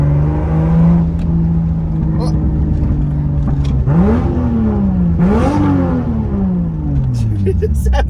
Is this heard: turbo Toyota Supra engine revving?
yes